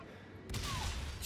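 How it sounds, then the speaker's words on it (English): A big explosion in the video game Call of Duty: Infinite Warfare bursts in suddenly after a quiet moment, then holds as a loud, dense roar to the end. "that was a big explosion"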